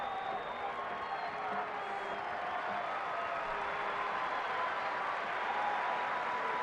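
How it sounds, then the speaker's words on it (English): Rugby union crowd at Argentina v Scotland cheering and applauding as Contepomi gets back to his feet, a broad, sustained roar filling the stadium under faint commentary. "Bit of relief in that cheering as they see Contepomi get to his feet."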